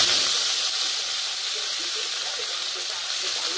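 Chopped grass pea (khesari) greens hitting hot oil in a pan, a loud, continuous close-up sizzle and hiss that holds steady without pause.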